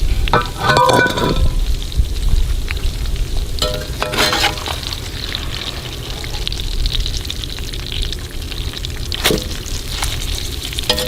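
Battered rattlesnake deep-frying in hot oil, a steady crackling sizzle running the whole time with brief louder bursts of bubbling, close and fairly loud with no talk.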